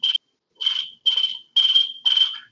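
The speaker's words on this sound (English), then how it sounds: "Crickets in an empty room" Crickets chirp in five evenly spaced shrill trills, close and clear against near silence, used as a sound effect for an empty room.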